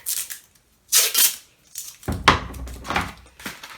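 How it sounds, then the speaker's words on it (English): Adhesive tape pulled off its roll while wrapping a crumpled paper form for papier-mâché, giving several short sticky ripping bursts close by with brief pauses between them, and no talking. "So I'm going to take my tape"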